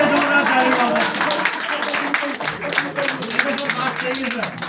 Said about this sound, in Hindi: सर मेरे जोरदार ताली मारो।